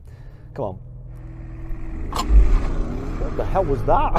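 An Audi SQ7 SUV launches hard from a standstill, its engine roar building and rising in pitch through the gears beneath a man's excited, breathless remarks.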